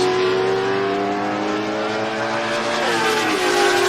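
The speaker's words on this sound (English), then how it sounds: "The LS swapped single turbo Chevy Nova." An LS-swapped single-turbo Chevy Nova drag racing roars down the strip, a loud sustained engine howl whose pitch climbs steadily, with a brief shift-like dip near the end.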